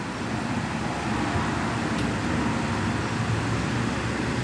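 A desk fan runs at its third speed setting, giving a steady, loud, even rush of air with no breaks.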